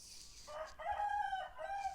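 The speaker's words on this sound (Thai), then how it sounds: "โหไก่ขันอีกแล้ว" A rooster crows loudly and close by in one long, wavering cock-a-doodle-doo lasting nearly two seconds, with no talking over it.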